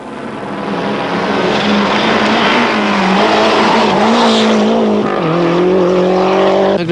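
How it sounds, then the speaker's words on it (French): Lancia rally car from the French championship at full throttle on a Tour de Corse special stage in 1989, a loud, close engine roar climbing and dropping through gear changes with a hint of tire noise. "Sur sa Lancia du championnat de France, Bruno Sabi réalise le premier scratch ex aequo avec Didier Auriol."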